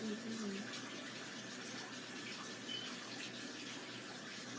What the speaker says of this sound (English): I'm gonna have to take a shower.